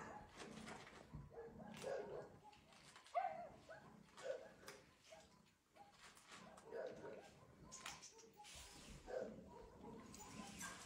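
Dogs bark and whimper intermittently at a distance, with soft yips scattered over quiet background noise, near a rubbish area where stray cats are eating.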